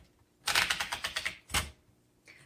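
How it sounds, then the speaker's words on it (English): A 1956 Underwood Golden Touch manual typewriter being typed on: a quick run of about eight crisp, close keystrokes, a brief pause, one heavier strike, then a faint final clack, in a quiet room. "Let's go ahead and do some typing."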